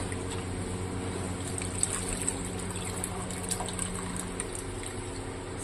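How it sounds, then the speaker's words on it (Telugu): Water pours into a pot of simmering fish curry, a steady close trickle and gurgle of liquid with faint bubbling, lasting several seconds without speech. "సో ఇంకొంచెం వాటర్ని మనము వేసుకుంటాం అన్నమాట"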